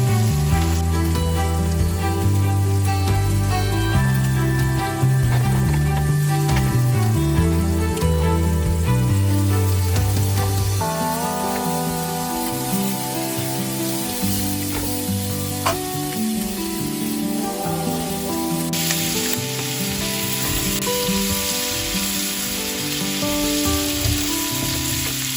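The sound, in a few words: steak searing in a Wagner 1891 cast iron skillet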